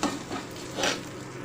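Fried chickpeas being stirred with a pinch of turmeric in a pan for a masala chana snack, a short burst of close scraping and soft sizzling that swells briefly midway.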